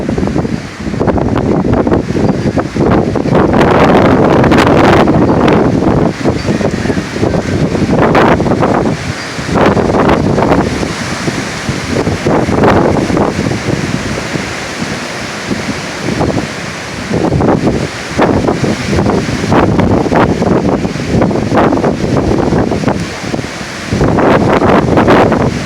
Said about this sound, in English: You get 70 and 80 mile an hour wind with that, I mean, that's pretty heavy.